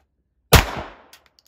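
A single sharp, loud gunshot cracks at a shooting range, then decays quickly with a faint echo.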